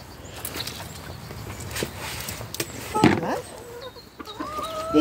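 Hens and a rooster, including Araucana chickens, clucking around feeding time in a backyard coop, soft scattered clucks over low ambient noise, with a louder close burst near the middle and a few brief tonal calls toward the end.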